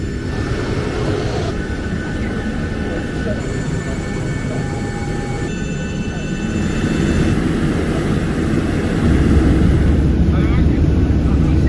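A steady airplane engine roar while passengers board, a broad continuous drone that grows louder partway through, with faint voices in the background.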